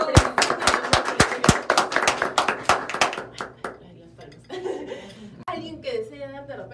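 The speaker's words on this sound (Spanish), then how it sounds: "un fuerte aplauso para ellos" Short burst of hand clapping at a Security Guard Day gathering, sharp claps for about three seconds that fade into a room of people talking and chuckling.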